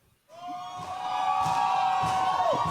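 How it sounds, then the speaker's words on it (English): Canned audience cheering and applause from a crowd switched on in a studio show setting, rising from silence into a steady, loud wash of cheers with a sustained tone running through it. "Let me just turn on the audience applause."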